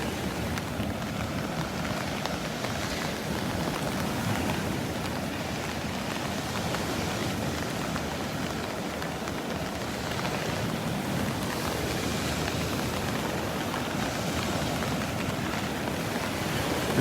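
Steady rain drums on an umbrella on a South Florida beach at Delnor-Wiggins, a continuous dense patter with a low rumble underneath and no pauses.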